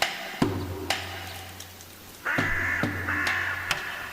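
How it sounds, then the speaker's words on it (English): Crow or raven cawing outdoors, a series of harsh repeated calls at moderate distance, with a couple of louder, overlapping caws later on and no talk. "Is it a raven? Or is it a crow?"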